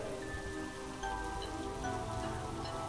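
Steady rain patters on a surface throughout, soft and continuous, with no voices.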